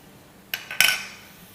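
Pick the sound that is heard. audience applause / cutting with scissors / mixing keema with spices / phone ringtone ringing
mixing keema with spices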